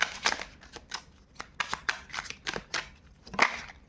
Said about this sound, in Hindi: Okay, let's shuffle again.